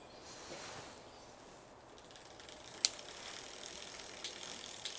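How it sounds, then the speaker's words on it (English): A Brompton 4-speed derailleur limit screw is loosened, giving faint, soft ratcheting clicks and light mechanical rustling with one sharper click partway through. "the limit screw is too tight. and needs loosening."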